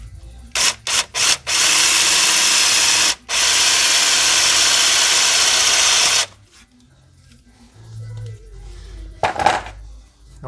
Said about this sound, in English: I guess I'll try to punch a little pilot hole in it first.